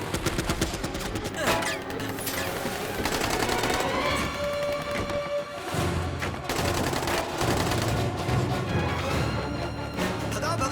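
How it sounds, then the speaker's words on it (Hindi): Sustained gunfire during a jailbreak chase in a South Indian action film, rapid bursts of shots and booms layered over a driving score, loud and continuous throughout. "गोली चलाओ"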